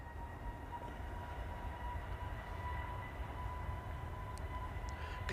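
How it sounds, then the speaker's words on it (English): An EasyJet airliner on its takeoff roll at an airport gives a steady, distant roar with a faint whine held throughout, and no voices. "EasyJet on the roll."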